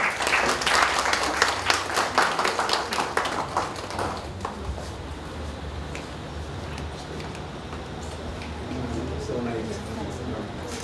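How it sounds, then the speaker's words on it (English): Applause from the audience at a Women's Day celebration, loud steady clapping for the first few seconds that thins out and fades, followed by quieter room sounds and murmuring voices. "A huge round of applause please."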